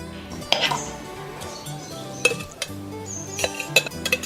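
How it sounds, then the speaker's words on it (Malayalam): A spoonful of beef mixture added into a puttu maker for Kerala-style beef puttu, with sharp metallic clinks and taps of spoon against vessel, scattered in short bursts, near and fairly quiet. "ഈ പുട്ടുകുറ്റിയിലേക്ക് നമ്മൾ റെഡിയാക്കി വെച്ചിട്ടുണ്ടല്ലോ ബീഫിൻ്റെ കൂട്ട്, അത് ഒരു സ്പൂൺ ചേർക്കാം"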